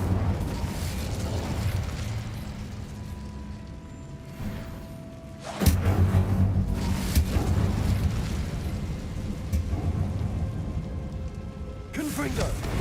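Incendio fire spell cast in Hogwarts Legacy, a sudden whooshing burst of flame that roars over a low rumbling game ambience, with a second burst near the end and a voice talking over it.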